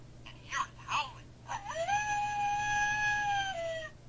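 A talking stuffed toy dog gives an electronic howl: a sustained, slightly wavering tone that holds steady for about two seconds and then drops, following a few short yelps. It plays alone at moderate loudness.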